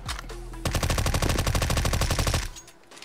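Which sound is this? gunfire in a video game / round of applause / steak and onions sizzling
gunfire in a video game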